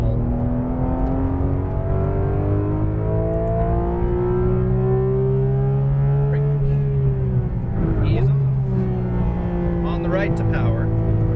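A Porsche GT2 RS engine pulls at full power on a coned track, its droning note climbing steadily and then easing before rising again, loud and close throughout.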